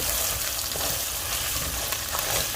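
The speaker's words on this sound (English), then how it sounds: "I'm just going to stir it in here and try to work those brown bits off the bottom." Tomato paste is stirred into a sizzling beef stew pot, the browned bits worked off the bottom, making a loud, dense, continuous frying hiss close up, with no talking.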